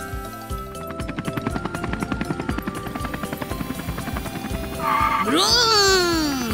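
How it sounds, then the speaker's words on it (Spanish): Cartoon helicopter in a children's show about robots and planes, a rhythmic rotor chop running steadily with music, ending in a rising whistling sweep as it comes in to land. "¡Es hora de que el helicóptero aterrice!"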